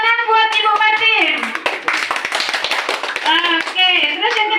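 A classroom group claps for a student in a quick burst of rhythmic hand claps, set among children's voices that rise and fall in a chanting, sing-song way before and after.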